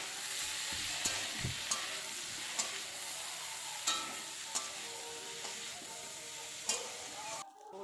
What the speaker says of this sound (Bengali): ওটসটা দিয়ে দিলাম ওটসটাকে একটু ভালো করে ভেজে নিলাম সবজিগুলোর সঙ্গে